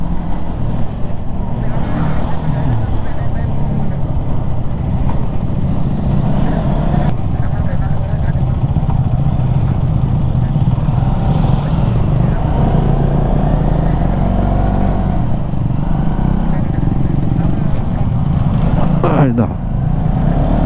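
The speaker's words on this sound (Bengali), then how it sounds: "এখন অফ রোডিং চলতেছে" A car climbs off-road through hilly country, its engine a loud, constant low rumble with road and wind noise, and people talk over it throughout.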